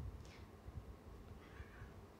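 A pet cat meows in a short rising call early on, followed later by a fainter second meow, both quiet against a steady low room hum with no talking.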